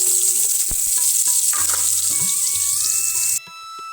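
Potatoes frying in a generous amount of oil in a wok, a steady bright sizzle running throughout with occasional stirring clatter and low knocks, cutting off abruptly near the end.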